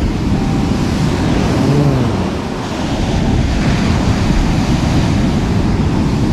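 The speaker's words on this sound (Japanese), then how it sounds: "急に波がポコポコ出てきたぞ" Ocean surf on a Sendai beach roars in a loud, continuous wash of breaking waves, heavily mixed with buffeting wind noise against the microphone, with no talking.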